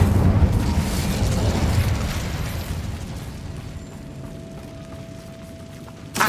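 Incendio fire spell cast in Hogwarts Legacy, a loud rumbling, booming burst of flame that starts strong and slowly fades into a low roar, with a short sharp pop at the very end.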